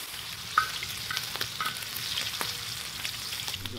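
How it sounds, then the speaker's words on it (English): Bacon sizzles gently over medium-low heat on a plow disc discada outdoors, a soft steady frying hiss with faint pops and an occasional scrape of a utensil. "I might turn it down just a little bit more to cook this bacon a little slow."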